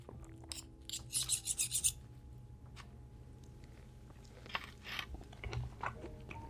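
Fried eggplant bits being chewed, a cluster of close, crisp crunching bites early on, then quieter rasping chews and soft mouth sounds.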